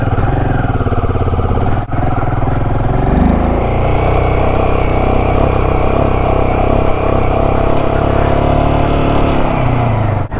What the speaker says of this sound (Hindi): अब बाइक को थोड़ा सा वार्म अप करते हैं